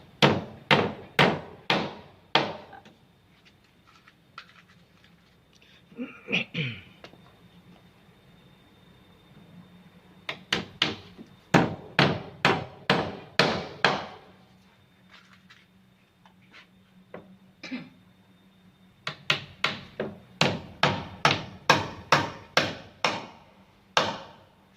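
Hammering nails into gypsum board on a wooden frame: sharp, evenly spaced hammer blows in bursts of several strikes, separated by pauses with faint background sounds.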